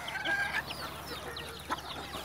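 Free-range farm chickens, including black-speckled hens and a rooster, cluck and squawk nearby in short, irregular bursts, with a few higher calls among the flock over a quiet farmyard background.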